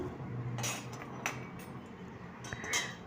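A metal spoon scrapes and clinks against a pan in short strokes as whole spices for sambhar masala are stirred and dry-roasted over a medium flame, with a soft background hiss.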